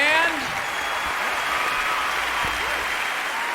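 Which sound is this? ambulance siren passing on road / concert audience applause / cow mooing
concert audience applause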